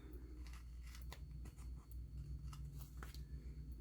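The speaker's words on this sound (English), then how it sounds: "These are the Tim Holtz scissors" Tim Holtz scissors snip through paper in a quiet craft session, a series of soft, close, crisp cuts repeating at an irregular pace over a low background hum.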